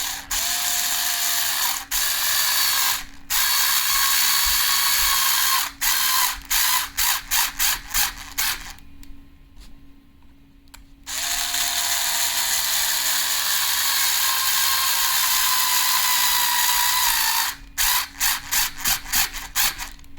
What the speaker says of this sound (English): Screw it all the way till there's no gap in between.